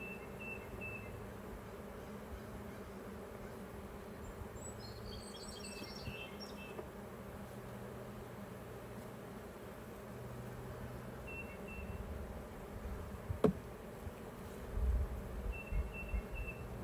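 Honey bees hum softly and steadily from an open beehive during a brood inspection, a faint, even drone with a few brief louder bumps near the end.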